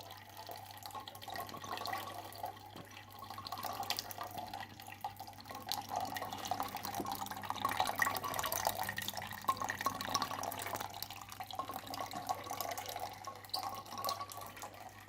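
Water flows and drips from an opened radiator valve while the radiator is drained during cleaning, a steady close trickle with light splashing that swells slightly midway, no voices.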